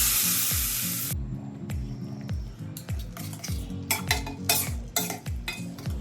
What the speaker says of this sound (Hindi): अब तड़का लगाती हूँ।